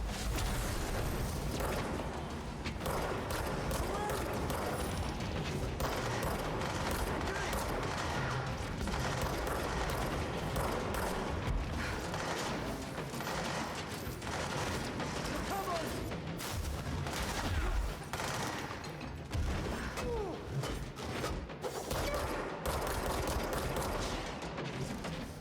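Dense gunfire fills a battle in the Control video game, a constant barrage of rapid shots and mechanical clatter that is loud and continuous throughout, with effects layered densely and no clear pauses.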